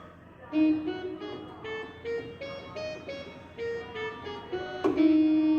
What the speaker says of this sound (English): play a blues scale that your piece is based on?